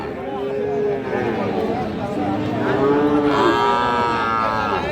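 Several drawn-out cow moos, one after another, close by, at a cattle market in Raniganj, with a constant murmur of voices and farmyard noise underneath.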